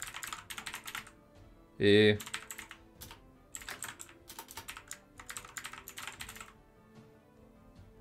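Quick bursts of typing on a computer keyboard, close and clicky, come in clustered runs with short pauses, while a voice speaks briefly near the start.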